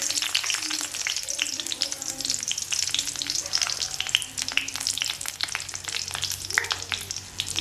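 Dried red chillies frying in hot coconut oil, a dense close crackle of spitting pops and sizzle with soft stirring underneath, steady throughout.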